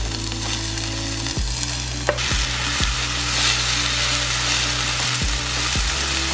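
Onions fry in a pan with a loud steady sizzle close up, while a low droning hum and several sharp clicks or knocks sound underneath; nobody speaks.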